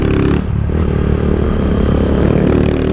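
Engine of a 2023 Honda Titan motorcycle on a track, a loud steady drone that runs throughout, with brief clatter and scraping in its opening moments.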